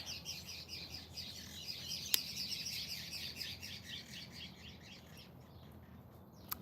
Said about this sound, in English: The birds agree.